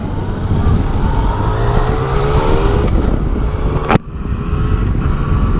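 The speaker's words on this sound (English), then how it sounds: "I do love triple engines." A 2018 Yamaha Tracer 900 GT three-cylinder motorcycle engine runs loud and close while accelerating, a steady rough drone with a brief sharp break partway through from a quick-shifter gear change.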